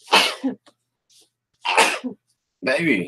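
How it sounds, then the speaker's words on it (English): A person with allergies sneezes loudly twice in quick succession, with a third sharp burst after a short pause; close and clear, with brief speech mixed in. "I'm going to sneeze here a second now."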